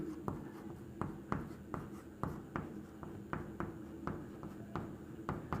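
Pen scratching across paper during a Hindi maths lesson proving root three irrational, in steady repeated strokes with sharp taps at regular intervals, close and fairly quiet, with no talking.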